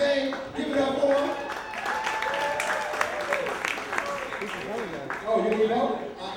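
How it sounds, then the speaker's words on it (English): Audience at an improv comedy show clapping steadily in a continuous wash of applause, with a host's voice talking over it and the crowd. "Big round of applause"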